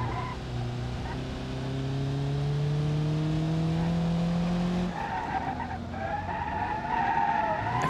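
In BeamNG.drive, a modern front-wheel-drive Ibishu Pessima revs as it accelerates, its engine tone climbing steadily, then tires squeal and skid with a shifting whine as the car slides, loud and close with no voices.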